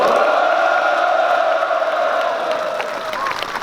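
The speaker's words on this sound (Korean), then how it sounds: "모두에게 함성의 박수를 보내주십시오." A crowd of small-business owners at a Korean press conference gives sustained cheering and applause, with shouts and hollering held over a steady wash of clapping, strong at first and easing slightly toward the end.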